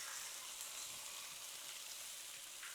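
Smash burger patties frying on a hot Blackstone griddle, a steady bright sizzle heard close and alone, fairly quiet and even for the whole stretch.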